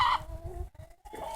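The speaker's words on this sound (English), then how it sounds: "these chickens, they're in the pen." Chickens in a roomy pen cluck in short bursts close by, a couple of quick calls separated by a brief pause, with no talk.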